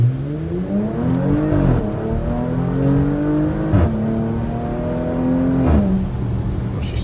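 A 2021 Porsche Macan GTS 2.9L with an MBRP catback exhaust and PDK gearbox accelerates hard in manual mode, its engine note rising steadily and dropping sharply at three quick upshifts, loud and close.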